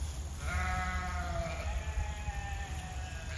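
Sheep bleating on a farm as fences are moved, a long wavering call near at hand over a steady low rumble of background noise, with no talk.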